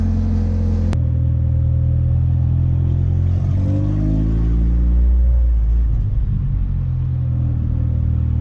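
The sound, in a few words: car engine idling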